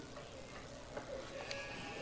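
Sheep bleat in the video game Pentiment, a few wavering calls spread over the clip at moderate level against a steady background ambience, with no talking.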